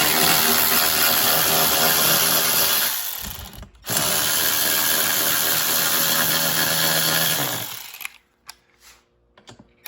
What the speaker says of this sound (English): Next, we're going to remove the backrest from the frame, and you're going to need a 14 millimeter for that.